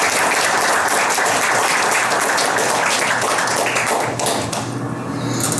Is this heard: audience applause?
yes